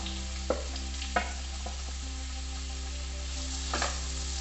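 Red tomatoes fry in a pan for a hotel-style egg masala curry, a steady sizzle broken by a few sharp scrapes of a spoon stirring, with a constant low hum underneath.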